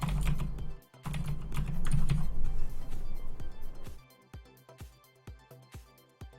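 Computer keyboard typing during a coding-puzzle session, a dense burst of overlapping keystrokes at first, then thinning to sparse, separate taps near the mic.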